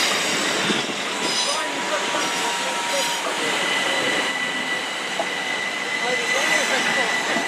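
A Class 455 electric multiple unit pulls away from Clapham Junction, its steady rolling rumble and faint wheel squeal sustained near and loud throughout, with no talk over it.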